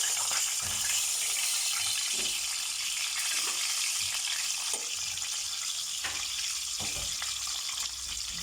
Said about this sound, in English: While the oil is still hot, I'm going to be adding in the eggs to fry it a bit.